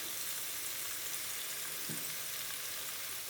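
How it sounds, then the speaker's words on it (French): Leeks and salmon simmering in a covered pan over low heat, a soft, steady hiss of gentle frying that stays even and unbroken, with a faint brief knock partway through. "Alors là je vais laisser mijoter"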